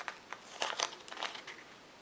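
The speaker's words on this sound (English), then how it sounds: "take the ends off it, and tape up all the seams" Quiet crinkling and rustling of tape being pressed along the seams of a mirror assembly for a stained glass kaleidoscope, a few short soft bursts with no talk.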